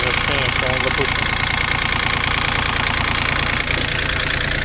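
A used Japanese mini excavator with a 0.04 cubic metre bucket and 2 m digging depth idles nearby in a steady, even low chugging rhythm, with someone talking briefly over it.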